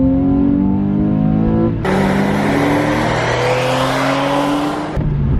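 A Porsche 911 Carrera 4S with a manual gearbox revs sharply on a rev-matched downshift, its flat-six engine note climbing with a loud blip, then dropping back to a steady drone, close and alone.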